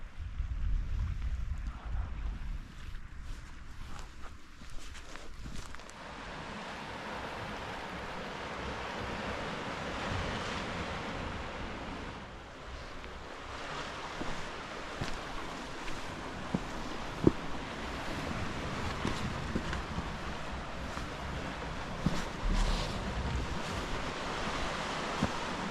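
Wind blowing outdoors at a quarry, a continuous rough roar and gusty buffeting against the microphone that swells and eases over a long stretch, loud and close, with no talk.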